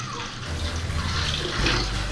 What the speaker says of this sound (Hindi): मम्मी जी इनको धो रही हैं संघारों को